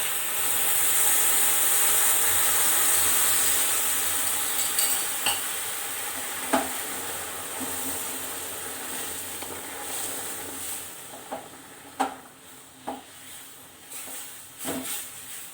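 Full cream milk and sugar cook together in a pan for a milk cake made from leftover roti: a steady soft sizzling hiss, broken by a few sharp scraping clicks of stirring that grow more frequent toward the end.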